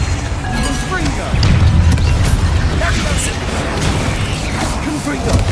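Confringo spell explosions in Hogwarts Legacy, a loud, dense barrage of fiery blasts and crackling impacts with a heavy low boom near the middle and debris rattling throughout, with voices mixed in.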